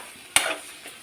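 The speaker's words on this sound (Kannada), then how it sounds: "ಚಂದ ಸ್ಟಿರ್ ಮಾಡಿ ಇದನ್ನು ಬೇಯಕ್ಕೆ ಬಿಡುವ" Green chicken stirred in a cooking pan: one sharp scrape of a utensil against the pan followed by a soft sizzle, then a fainter second scrape, close and without talk.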